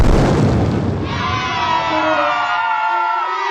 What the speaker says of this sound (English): Boom! A beautiful blast.